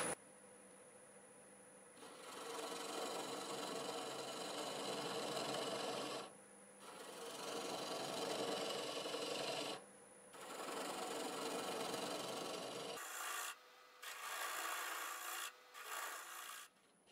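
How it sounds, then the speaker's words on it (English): A spindle gouge scrapes and cuts against hackberry wood spinning on a lathe, a loud continuous rasping hiss broken by a few short pauses and then choppier passes near the end. "So I like to use my little spindle gouge for getting this nub down small and maybe even"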